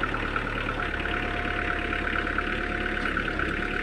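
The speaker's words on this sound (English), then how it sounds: "Let me fire up the engine" A Kubota B Series compact tractor engine idles steadily nearby, a continuous mid-pitched diesel drone with no talk over it.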